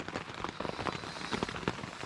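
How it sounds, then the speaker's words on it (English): Light rain patters steadily on surfaces at a mountain campsite in Chicago Basin. It is a quiet, even drizzle texture with scattered individual drops and no talking. "it's been raining all night, so"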